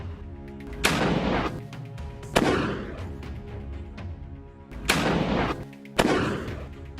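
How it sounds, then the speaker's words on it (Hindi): Sniper rifle fire in war footage from a Hamas-IDF battle in Rafah: four loud, sharp cracks at roughly one-second gaps, each followed by a long rolling echo, with a steady background rumble between shots. "हमास का एक लड़ाका दूर बिल्डिंग से उसके ऊपर स्नाइपर राइफल फायर कर देता है"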